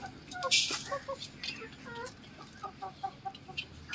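Several hens cluck and chatter in short, repeated bursts, fairly close, with busy background noise and occasional voices mixed in.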